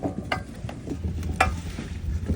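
Vegetables frying in ghee with spices are stirred in a pot, a soft sizzle beneath a few irregular scrapes and clicks of a spoon against the metal.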